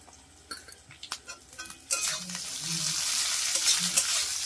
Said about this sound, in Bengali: পেঁয়াজটাকে আমি সুন্দর করে আগে লাল করে ভেজে নিচ্ছি বন্ধুরা